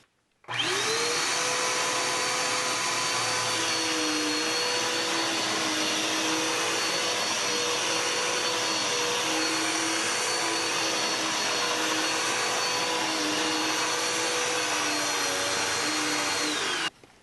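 A Dirt Devil Power Max Pet vacuum cleaner switches on and roars steadily at close range, a loud continuous whine with a droning motor hum, running alone without pause before cutting off.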